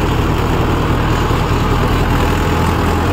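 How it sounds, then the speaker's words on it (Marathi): A Mahindra Yuvo 575 tractor pulls a trolley loaded with about 22 quintals, its engine a loud, steady, close drone with no breaks. "ट्रॉली लोड ते ट्रॉली चांगले बावीस एक क्विंटल एवढा लोड है तरी पण ट्रॅक्टर बघा"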